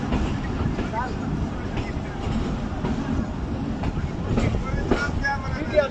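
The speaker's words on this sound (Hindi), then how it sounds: "ये सामने 502 डाउन सुपर पार्सल एक्सप्रेस" The 502 Down Super Parcel Express passes on a rail line in Pakistan in the rain, heard as a steady rumbling train roar with wind buffeting the microphone and a voice talking over it.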